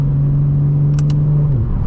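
A 900 bhp BMW M4 Competition fitted with a resonated mid-pipe exhaust holds a loud, steady low drone, with two quick higher blips midway and the pitch easing down near the end.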